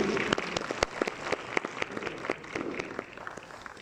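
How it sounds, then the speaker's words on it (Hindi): An audience applauds at a Sufi music festival in Sahiwal, with scattered, moderately loud claps forming a loose, uneven patter that carries on through the short stretch without voices over it. "आपकी भरपूर तालियों में तशरीफ लाते हैं"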